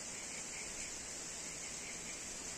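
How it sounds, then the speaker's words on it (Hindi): A waterfall on a journey home through Pakke-Kessang gives off a constant, even rush of white water, a broad hiss that stays unchanged from start to finish with no talking. "मेरा पीछे एक झरना था"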